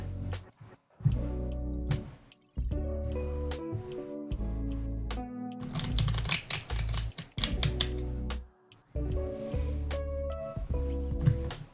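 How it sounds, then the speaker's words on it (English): Tarot cards riffle and tap in repeated bursts of rapid crisp clicks over a background of soft music, close by. "I'm gonna just shuffle the cards and have them ready"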